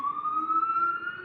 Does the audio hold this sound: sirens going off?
yes